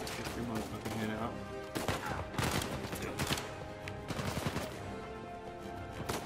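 Uncharted 4 gunfire on crushing difficulty crackles as scattered loud shots and short bursts, irregular and close, over a dense bed of game music and effects.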